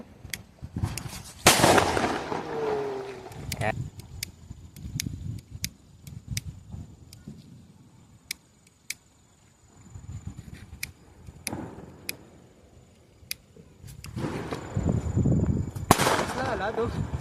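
Firecrackers burst outdoors in windy conditions, with several sharp isolated cracks spread across the stretch and a louder bang early on, amid gusty noise and some people talking.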